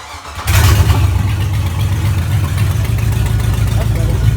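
A junkyard 5.3 engine in a 1955 Buick Special fires up and settles into a loud, steady, rumbling idle after a brief quieter moment, running low on fuel.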